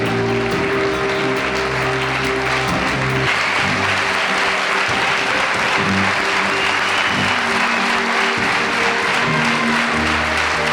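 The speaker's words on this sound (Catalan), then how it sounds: "95 anys, un fort aplaudiment per ella" Loud, sustained applause fills a sports awards gala honouring a 95-year-old sportswoman, steady clapping from a large audience with a faint murmur of voices running underneath throughout.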